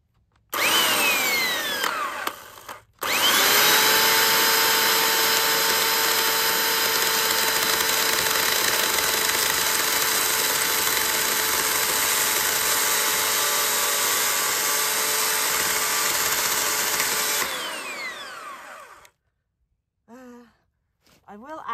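A small chainsaw motor whines at a high, steady pitch for several seconds after a short start, then cuts off, leaving quiet with a few soft noises.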